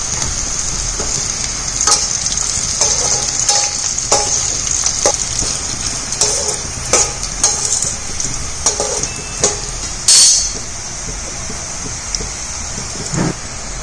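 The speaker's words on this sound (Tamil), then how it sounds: "அடுத்தது கருவேப்பிலை கொஞ்சம்." Curry leaves fry in hot oil for tamarind rice, a loud close sizzle full of irregular crackles and sharp spattering pops that keep bursting over about fourteen seconds.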